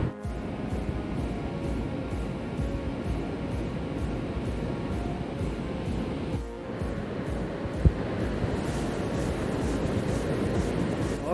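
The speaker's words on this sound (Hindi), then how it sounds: "यहाँ पे जो नदी की आवाज़ है ना वो बहुत ज़्यादा तेज़ आ रही है" Loud river rushing at the Alaknanda–Bhagirathi confluence, a steady, dense roar of fast water filling the whole stretch, with a brief dip partway and one short knock, no voices.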